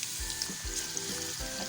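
Onions frying in hot oil in a frying pan, a dense close sizzle with a few soft scraping stirs, continuous and alone without talk.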